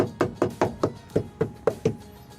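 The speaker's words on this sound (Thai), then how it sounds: "เช็คเสียงไปด้วยเคาะแล้วก็เสริมไปด้วยครับ" Knuckle knocks on a Toyota Camry hybrid's body panel during sound-damping work, eight evenly spaced dull thuds, close and fairly soft, with no talk.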